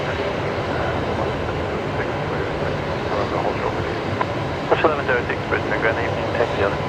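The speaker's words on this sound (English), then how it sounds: "It's Jetstar 566 coming in from Melbourne tonight. This is one of the beautiful A321 Neos" A Jetstar Airbus A321neo in new livery arrives at Brisbane Airport, its jet rumble a constant wash throughout, with a voice talking over it that grows livelier toward the end.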